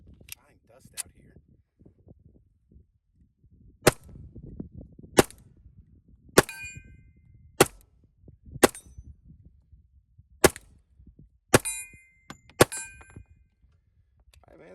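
A TISAS 1911 Stingray Carry .45 ACP pistol fired outdoors, roughly ten sharp, loud shots spaced irregularly a second or so apart, with quiet handling noise and faint movement between them.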